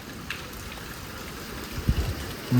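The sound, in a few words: heavy rain and strong wind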